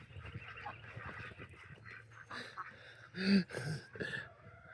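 Chickens and other poultry clucking and honking inside a coop, a busy overlapping chorus of calls with one loud squawk near the end, close by and with brief talk in the background.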